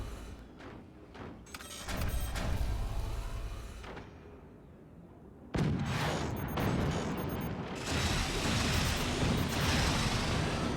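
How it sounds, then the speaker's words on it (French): Gunfire hits doors in a video game match, rapid bursts of shots and metallic impacts clustered early, a quieter gap, then a sustained loud barrage of firing and clanks. "il tire dans les portes"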